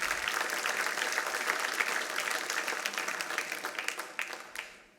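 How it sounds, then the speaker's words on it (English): A quick round of applause from an audience at a recognition event honoring an absent award recipient, dense steady clapping throughout that thins and tapers off near the end. "So maybe in his absence, we'll just give him a quick round of applause."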